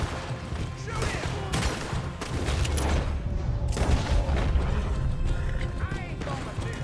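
Gunfire in the open-world Western video game Red Dead Redemption 2, a dense run of overlapping shots and booms over a steady bed of game noise, with voices shouting now and then.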